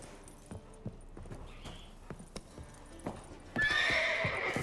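Horses in The Witcher clop on hard ground in slow, scattered hoof steps, then one lets out a loud whinny near the end, with no voices.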